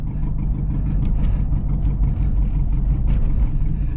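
A 2009 Chevrolet Tahoe LS V8 with its catalytic converter stolen gives a loud, deep, rumbling exhaust drone that holds steady throughout as the SUV is driven.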